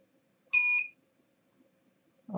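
A single short, bright electronic beep rings out as a Spooky2 device switches on, loud and clean against near silence, followed by a faint low rustle at the end.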